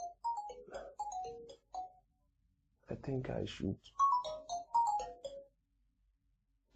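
A melodic phone ringtone plays a repeating tune, bright and fairly close, and a person speaks briefly between the two bursts of ringing.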